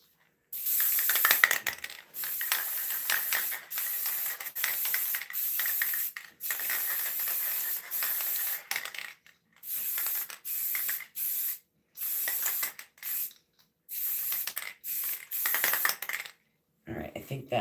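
Aerosol spray paint hissing onto a craft piece hung on a hook, close and loud, in repeated long bursts with brief pauses and a few faint clicks of the can.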